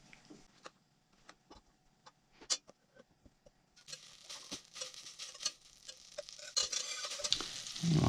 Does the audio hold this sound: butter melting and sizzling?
yes